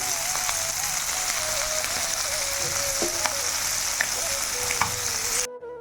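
Khaira hilsa fish frying in oil: a dense, constant crackling sizzle up close, with occasional pops, a faint thin tone beneath, then an abrupt stop.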